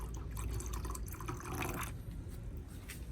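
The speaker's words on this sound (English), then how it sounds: "I add about 500 milliliters of clean water and stir well to dilute it properly" About 500 millilitres of clean water is poured and stirred into turmeric powder, giving a steady, quiet trickling and sloshing that runs continuously with no voices.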